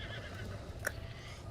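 A horse in the video game The Legend of Zelda: Breath of the Wild gives one short, sharp neigh partway through, faint against a low steady game background hum, with no talk.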